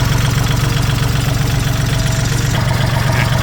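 A 2018 Kubota L4018DT tractor engine runs steadily up close, a loud, even low-pitched chug with a fast regular rhythm throughout, alone with no talk.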